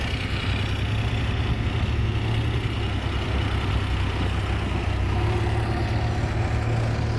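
A tractor engine idles at a dusty earth-loading site, a steady low rumble that stays even and close throughout, with no voices.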